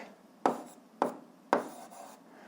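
A pen writes out an eighth-grade algebra exercise, with three short, close scratching strokes spaced about half a second apart and no voices.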